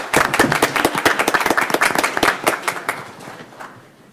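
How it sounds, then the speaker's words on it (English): A school board meeting audience claps for a teacher at a pinning ceremony, a brief burst of close, distinct hand claps that thins out and fades within a few seconds. "Give her a round of applause."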